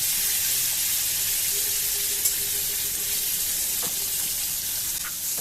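Ground onion and curry leaves fry in hot oil for a Punjabi-style mixed dal, making a loud, continuous hissing sizzle that holds steady throughout with no talking.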